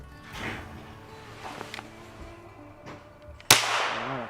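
A single sharp shotgun blast fired at a clay target cracks out near the end, loud and close, preceded by quiet ambient noise and followed by a fading echo.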